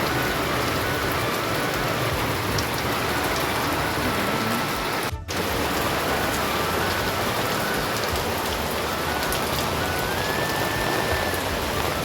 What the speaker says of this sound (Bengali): কি শুরু হয়েছে বৃষ্টি, কাল বৈশাখী ঝড়, বৃষ্টি তো হবেই অবশ্যই।